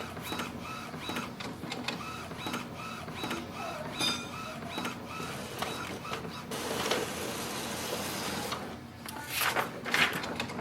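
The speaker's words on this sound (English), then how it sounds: "Let's print the nozzle check sheet." An Epson WF3820 inkjet printer whirs and clicks through printing a nozzle check sheet, the carriage shuttling back and forth in rhythmic bursts with paper feed noises, close by.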